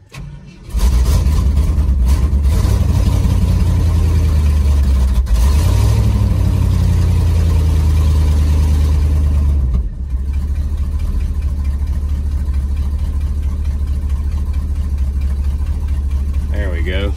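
Cold 1971 Ford F250 Camper Special engine cranks and catches, then settles into a loud, steady idle with a brief rev midway, close by, with occasional talk over it.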